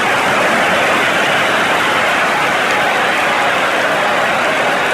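A stadium crowd roars in the cricket video game Cricket 26 during an India vs New Zealand T20 match, a loud, dense and unbroken wash of cheering noise that holds steady throughout.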